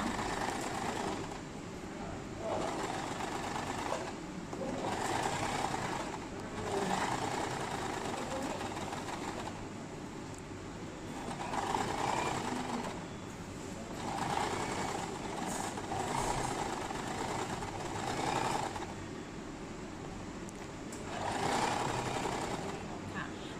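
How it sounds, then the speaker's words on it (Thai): Sewing machine running in bursts while stitching a straight seam along woven sarong fabric, its steady mechanical whir rising and falling in several runs over a soft background hum. "พอเราเย็บตลอดแนวแบบนี้แล้วนะคะ"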